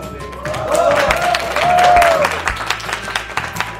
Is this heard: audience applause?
yes